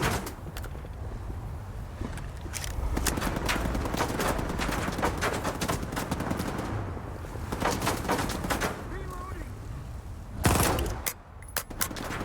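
Rapid gunfire rattles from a gun in S.T.A.L.K.E.R. 2: Heart of Chornobyl, fired in dense repeated bursts across the whole stretch, with a louder blast near the end and game ambience underneath.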